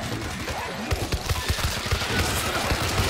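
Gunfire in the zombie shooter World War Z: dense, continuous bursts of rapid shots with irregular rhythm, loud and close, layered over constant game noise without clear speech.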